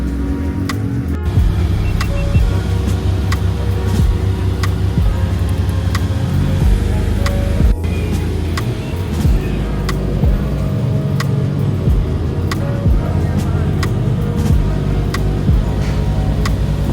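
Interior of a Lamborghini Huracan Performante on the winding Tail of the Dragon road, a continuous loud low engine drone with steady rumble and scattered ticking cabin noises, no talking.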